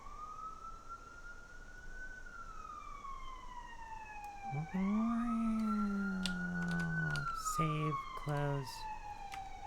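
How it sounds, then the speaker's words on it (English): A wailing emergency siren rises and falls steadily, then a second siren joins with pulsing yelps; loud and nearby, with a few brief spoken words. "I can't deal with these sirens"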